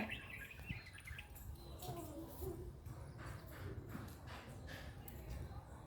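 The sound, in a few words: birds chirping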